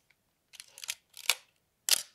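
Nikon F2 film camera shutter firing several times indoors, each a crisp mechanical clack with a brief ratchety wind; close and moderately loud, separated by silence.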